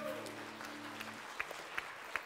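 Church congregation clapping during praise and worship, a brief patter of hands as sustained organ or keyboard tones fade, leaving a few sharper claps spaced apart.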